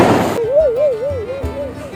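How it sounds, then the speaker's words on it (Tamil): A giant 6000-rupee firecracker is set off at a rainy Diwali street celebration, giving a loud, sharp burst up front, followed by a wavering whistle-like tone and lingering rumble. "ஒரு ஜெயிண்ட்"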